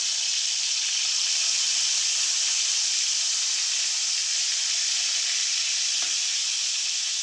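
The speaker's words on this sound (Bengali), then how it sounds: "ক্যাপসিকামটা আমি হালকা ভেজে নিয়েছি লবণ দিয়ে হালকা ভেজে নেব" Capsicum frying lightly with a little salt in a pan gives a steady, close, even hiss of sizzling oil throughout, alone with no talk.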